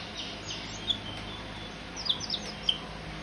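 Several short, high chirps from a chick rise above a steady background hiss, mostly clustered near the end.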